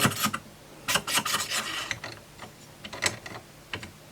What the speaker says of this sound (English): That does not want to screw through the nut.